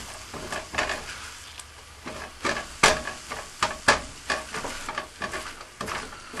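Eggs softly scrambled in a pan for four meat fried rice, close and moderately loud: an irregular run of scraping stirs with a light sizzle underneath, the utensil strokes coming every half second or so.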